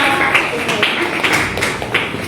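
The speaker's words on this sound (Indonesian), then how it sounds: "Kita aplaus buat Sari dan Elvira" An audience applauds for Sari and Elvira, with close, steady clapping in quick irregular taps at moderate loudness, sounding like a small group in a room.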